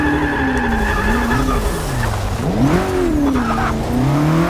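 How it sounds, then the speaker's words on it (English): A car drifts in the Forza Motorsport 6 racing game, its tires squealing continuously while the engine note wavers up and down through the slide, loud and close with no talking. "So when I am drifting this now, I have no clutch."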